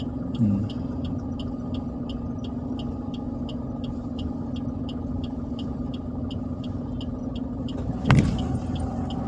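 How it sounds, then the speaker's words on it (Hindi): A car turning slowly during a driving lesson, its engine a steady low rumble with a regular faint ticking like a turn indicator throughout, and a brief sharp knock near the end. "क्लच दबाइए, घुमाइए धीरे धीरे, घुमा डालिए पूरी गाड़ी"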